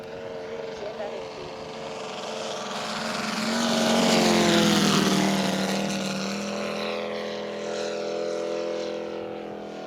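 A 20 kg radio-controlled warbird model with a five-cylinder radial engine drones past, rising to a loud peak mid-pass with a falling Doppler pitch, then fading; people talk faintly in the background.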